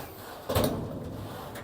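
A drawer on an assembled half-glass steel cabinet slides in, giving one brief soft rumble and bump with a faint rattle, close by and with no talking.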